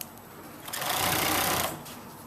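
A sewing machine stitching stretchy leggings fabric, a steady fast mechanical whir that builds up, runs for about a second and then eases off, close and alone.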